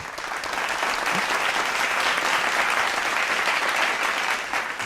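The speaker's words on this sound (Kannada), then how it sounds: "ಕೊಡ್ರಿ ಚಪ್ಪಾಳೆ." Sustained applause from a studio audience at a Kannada television music show, loud and dense from start to finish, easing off slightly near the end.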